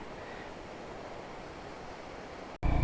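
Steady broadband rush of a waterfall in the Black Hills of South Dakota, close and constant with no voices, cutting off abruptly near the end.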